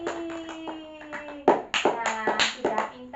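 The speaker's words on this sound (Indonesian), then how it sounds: "Tepuk tangan lagi." Children clap their hands in a classroom in uneven, close bursts. The claps are soft at first and grow louder and quicker partway through, with children's voices singing and talking throughout.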